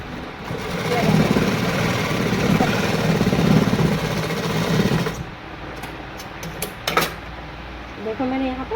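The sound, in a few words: sewing machine stitching a patiala salwar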